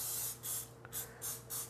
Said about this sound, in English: Just spray the top slightly with a little oil.